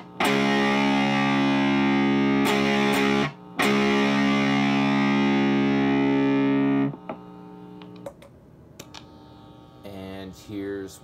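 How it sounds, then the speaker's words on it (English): Guitar through a bass amp, one of three amps blended with a Morley George Lynch Tripler, gives loud sustained distorted chords, a short break near three seconds, then a quieter stretch of sparse picked notes. "Here's what the bass amp sounds like by itself."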